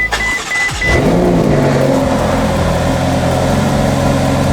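A Ferrari California T with a 3.9 liter V8 cold starts: the starter whirs briefly, then the engine catches and flares to a loud, close rev before settling into a high, steady idle.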